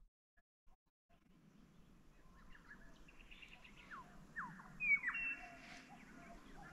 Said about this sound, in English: How perfect is the morning. It's just birds and nothing else.